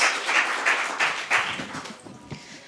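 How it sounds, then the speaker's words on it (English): Applause for a startup at a pitch competition, a cluster of clapping hands in rhythmic bursts that fade out, followed by a few faint taps. "Big applause for him"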